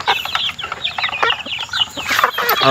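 Pet chickens of a home-developed breed clucking loudly and rapidly at close range, a busy overlapping stream of clucks and squawks with no pauses.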